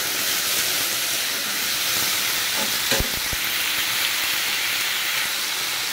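Chopped potatoes go into onions that are already frying in a pan, and a steady, close sizzle runs throughout. A few short clatters of the pieces landing fall near the middle.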